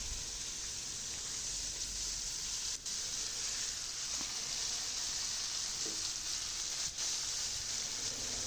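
A large whole fish of about one kilogram, an Italian variety, goes into a pan of well-fried spice paste, giving a steady, even sizzling hiss that carries on throughout without any talking.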